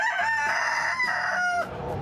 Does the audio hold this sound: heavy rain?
no